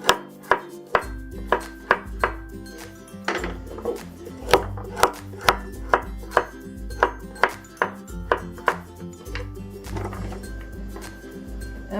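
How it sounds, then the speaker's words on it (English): Carrots being cut diagonally with a knife on a board, sharp regular chopping knocks in a steady rhythm of around a dozen strokes, close and clear. "Next, let's cut up the carrots. I'll just do a diagonal cut."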